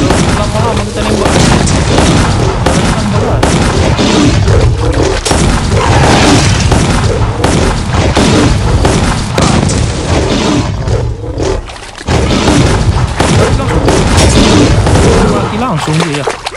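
Heavy bomb explosions and rapid gunfire in the survival video game Westland Survival, loud booms and bursts crowding together almost without pause, with a voice talking over the action.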